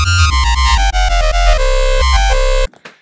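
An electro brostep synth with shaper and drive engaged plays a gritty, harmonically rich, distorted sequence of short stabs and sustained notes, loud and upfront, then stops abruptly, leaving a brief faint tail.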